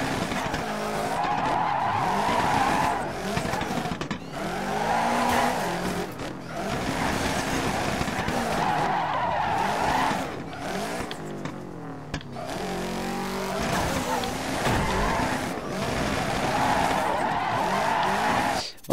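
A rally car in DIRT 3 skids and slides off-road, its engine revving and falling repeatedly while tires scrub and squeal in surging waves, loud and continuous.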